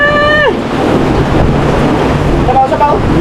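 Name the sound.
strong wind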